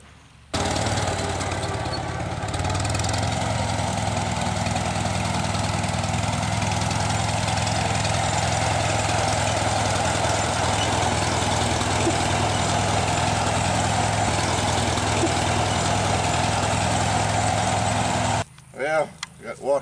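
A Farmall tractor engine idles close by in a cornfield with a steady, low, chugging drone for most of the clip, then cuts off, and someone speaks briefly at the end.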